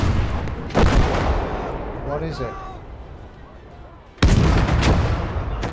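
Anti-tank gun firing during a river crossing battle in a war video game, two loud booming shots a few seconds apart with rumbling fire between them, while a voice asks a short question.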